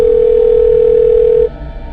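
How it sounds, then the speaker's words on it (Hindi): A steady, loud telephone dial tone holds for about a second and a half, then cuts off abruptly, leaving a low background hum. "फिर उस फोन से करण के दूसरे फोन पर फोन किया गया।"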